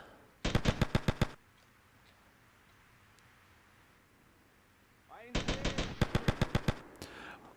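Gunfire in Grand Theft Auto Vice City comes as two bursts of rapid automatic shots, about eight to ten each. They are loud and evenly spaced, with a quiet pause of several seconds between them.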